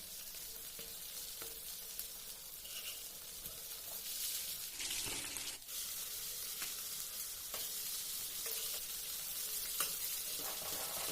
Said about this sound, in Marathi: मच्छी मी दोन्ही बाजूने चांगली खरपूस फ्राय करून घेतली आहे